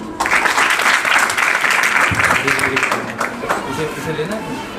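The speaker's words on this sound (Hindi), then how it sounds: "चलो ताली बजाओ।" A school audience of students and teachers claps for the next classmate coming up to speak, giving dense, steady applause that fills the room at close range and tapers off near the end.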